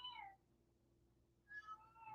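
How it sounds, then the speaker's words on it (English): A feral cat meows twice, each a short, faint, rising-and-falling call heard from some distance, separated by a quiet gap over low background hum. "Do you hear the feral cat?"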